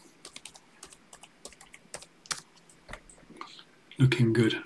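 Typing a terminal command on a computer keyboard: a run of quick, irregular close key clicks, ending in a denser, louder burst of keystrokes.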